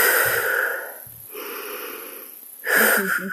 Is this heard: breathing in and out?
yes